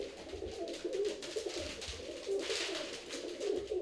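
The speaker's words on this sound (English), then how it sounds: "we've brought together a whole load of live pigeons" Live pigeons cooing together indoors, soft repeated low coos overlapping from several birds, moderately close, with no talk.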